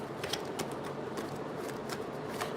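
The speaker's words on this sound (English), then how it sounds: "Damn, Libra, that's a fast shuffle." Tarot cards get shuffled fast, with a run of quick, soft riffling flutters and snaps at close range, fairly quiet, with no speech.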